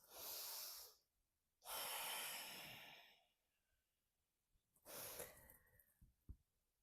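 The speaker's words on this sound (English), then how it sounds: "Can I hear you breathe from miles and miles and miles away?" Three loud, deep breaths during a yoga twist stretch, two long airy exhales followed by a shorter one, close and alone with a soft tap at the end.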